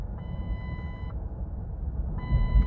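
A steady electronic airbag warning tone chimes twice from inside a 2006 Lincoln Town Car, each lasting about a second, over a low engine rumble.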